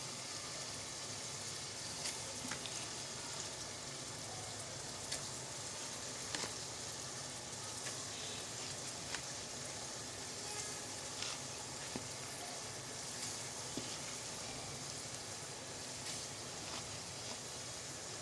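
Tomatoes sizzle and fry in a pot of sauce stew for rice and yam, a soft continuous hiss with faint crackles and occasional small pops, fairly quiet and steady throughout.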